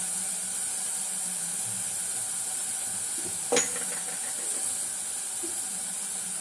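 Onions sautéing in a pan for rasam give a steady, even sizzling hiss throughout, broken once by a brief sharp click partway through.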